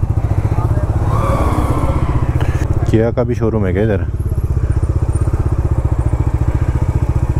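Royal Enfield motorcycle running with a steady, loud thumping engine throughout, close by, while people talk over it.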